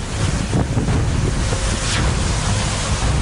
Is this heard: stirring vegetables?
no